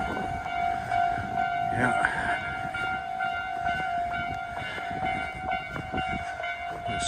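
A train passing through Osaka, with steady rolling rumble and a sustained tonal whine throughout, fairly close; one person speaks briefly near the start.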